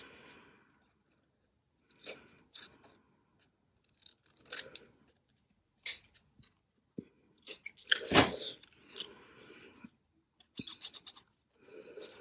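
Scissors snip through fabric while pockets are cut out for a sewing project: a string of short, crisp cuts in bursts with gaps of silence between them, close and fairly quiet, plus one louder snip partway through.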